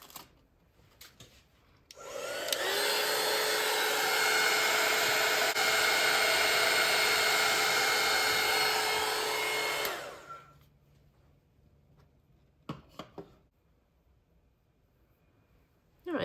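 A hair dryer blows steadily for about eight seconds to dry a watercolor seascape bookmark painting, a loud, even whoosh with a faint whine that starts and stops abruptly, followed by a few light clicks.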